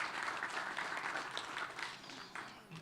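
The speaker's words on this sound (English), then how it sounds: "let's give him a round of applause as he takes his seat" Applause from a conference audience at an internet peering forum as a speaker returns to his seat, a steady moderate patter of many hands lasting a few seconds, fading near the end.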